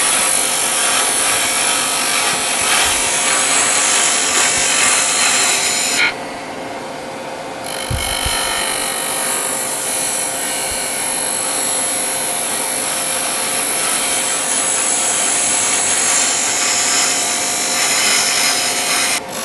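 Dry wood sphere turning on a lathe, a tool tip scraping steadily without throwing shavings; a continuous near, loud rasping hiss with a steady hum underneath and a brief change in tone partway through.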